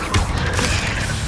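The Incendio fire spell is cast in the video game Hogwarts Legacy, a brief loud burst of whooshing, crackling impact.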